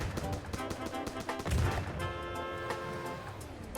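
A turret gun firing in the naval design game From the Depths, with a steady run of rapid shots over a dense mechanical hum and ringing tones, continuous and fairly loud.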